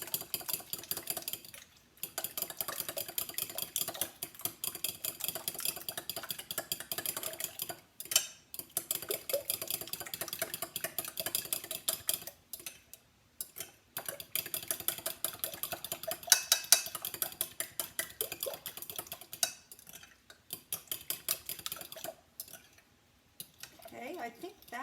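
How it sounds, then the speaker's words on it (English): A fork whisks ingredients together in a bowl, a quick run of rhythmic clicking and tapping strokes with short pauses, while a voice talks in between. "So I'm going to just whisk all of this together"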